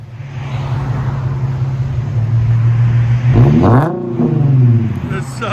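A 2015 Infiniti Q50 AWD with a 3.7L V6, dual exhaust and muffler delete, idling with a deep steady rumble, then revved up sharply and falling back, loud and close, with voices underneath.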